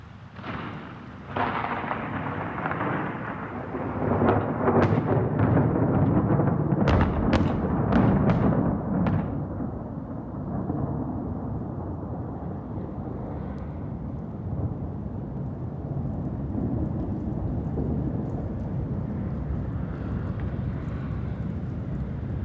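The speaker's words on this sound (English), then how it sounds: "I think that last bit of thunder was from a more distant return stroke." Thunder from a distant lightning return stroke: a long, deep rolling rumble with a cluster of sharp cracks early on, then a steady low grumble fading slowly, loud and continuous with no talking.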